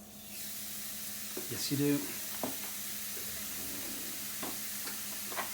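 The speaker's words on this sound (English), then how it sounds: "You should hear a nice sizzle as it goes on." Beef burger patty hitting a hot grill, a soft sizzling hiss running steadily under brief talk, with a louder burst as it lands and some light scraping.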